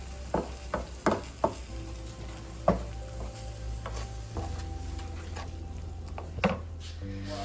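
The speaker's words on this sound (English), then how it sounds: "I'm going to go ahead and add my corn now with the juices. Mix that in." Stirring corn and its juices into a browned ground-meat and brown-gravy filling for tater tot shepherd's pie, with a few sharp spoon knocks against the pan over a steady low sizzle.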